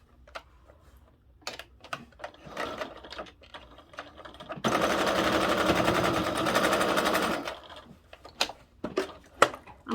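A sewing machine stitches a fabric billfold wallet in one loud burst of about three seconds, with scattered clicks and handling taps before and after.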